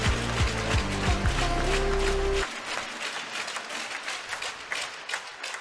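Arena crowd applauding a departing handball goalkeeper at a season farewell, broad sustained clapping, loud at first over a deep rhythmic music bed that cuts out midway, then continuing alone and gradually thinning.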